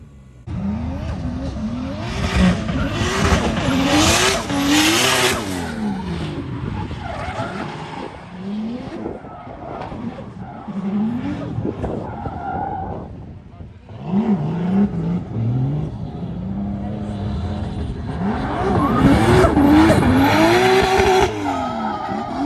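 A car sliding around a skidpad with corrected power steering, engine revving hard in rising and falling bursts with tire squeal, easing off in the middle before building again, loud and close.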